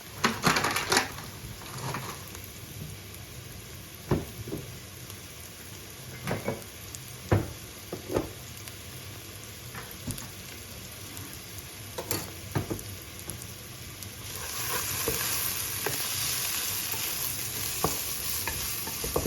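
Two chopped onions fry in a pan with a steady soft sizzle, broken by occasional sharp clicks and scrapes of a stirring spoon, and the hiss swells louder toward the end.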